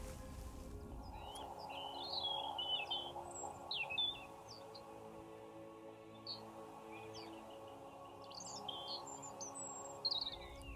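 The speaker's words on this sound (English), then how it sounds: "I'm just going to stay here until the blackbird finishes his song" A blackbird sings in the evening by the water, its clear, varied phrases coming in bursts over a quiet, low background hum.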